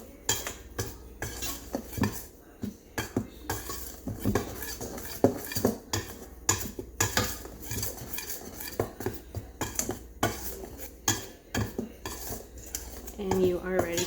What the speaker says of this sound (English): you want to mix those dry ingredients